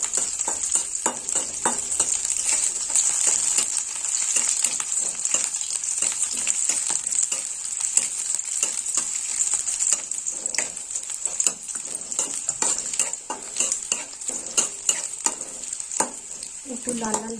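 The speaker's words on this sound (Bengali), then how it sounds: "রসুনটা একটু ভাজা হবে।" Crushed garlic frying in a pan for a fish kalia, a bright continuous sizzle with frequent stirring scrapes and clicks, close and steady, without speech.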